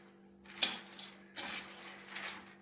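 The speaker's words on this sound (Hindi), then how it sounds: "ये यहाँ पे भून रही हूँ मखाने" Makhana (fox nuts) roast in a pan at home, giving a few soft clinks and scrapes spaced over a quiet background with a steady low hum.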